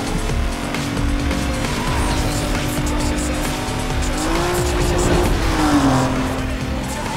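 Engine roar and squealing, skidding tires from a car driven hard in the Need for Speed Most Wanted racing video game, loud and continuous throughout, with a pitch shift as the car slides.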